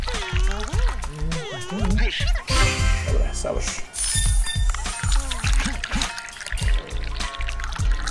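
Green tea is poured in the game Dave the Diver, a soft trickling stream set under busy game music and effects, while someone talks throughout.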